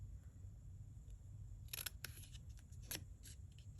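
Scissors snipping through paper for a coloring craft, a few quick crisp cuts in the second half against a quiet room with a low hum; no one talks.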